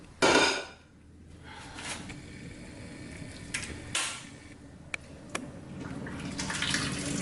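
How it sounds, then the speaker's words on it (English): Boiled shrimp poured into a strainer in a kitchen sink over a cold water bath: a loud splashing pour at the start, then scattered clanks and knocks of the pot and strainer with running water, no talk. "I'm going to take them to the sink and strain them."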